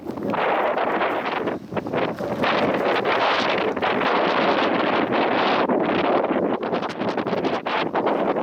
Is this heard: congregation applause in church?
no